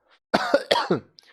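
A person coughs in a deliberate demonstration, giving three or four sharp, harsh bursts in quick succession. The coughs are close and loud against near silence.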